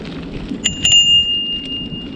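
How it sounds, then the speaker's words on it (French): A bicycle bell rung during a bike ride in Budapest, two quick bright dings with a ringing tone that fades, over outdoor rumble. "Non, j'essayais la sonnette."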